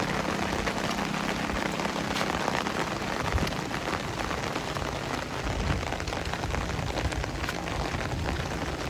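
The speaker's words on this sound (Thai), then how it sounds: "เบิ่งสภาพการตอนฝนตกบ้านเฮา ก็ประมาณนี้แหละพี่น้อง" Heavy rain pours steadily onto a house during a storm, a dense, continuous hiss and patter of drops on the surfaces, moderately loud with no voices.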